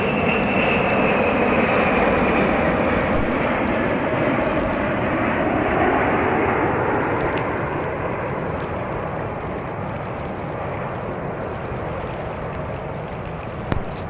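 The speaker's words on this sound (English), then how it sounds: "Arriving, we have Delta Airlines Flight 169 coming from Barcelona, Spain." A Delta Airlines jet arriving at JFK airport roars loudly overhead, its engine whine shifting and slowly fading over a steady broadband rumble, with no talk.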